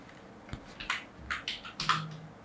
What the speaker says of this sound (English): now let me write name is Harry